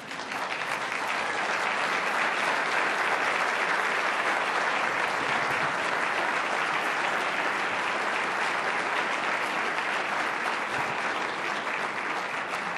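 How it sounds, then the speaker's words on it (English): Sustained, dense applause from a large audience at a university welcome day event, a loud, even roar of many clapping hands lasting well over ten seconds without letting up. "let's give them a round of applause"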